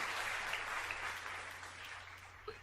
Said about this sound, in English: I wanted a longer applause